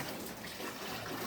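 Caustic soda mixture poured into water while making liquid soap, a soft steady splashing pour that stays faint and even throughout.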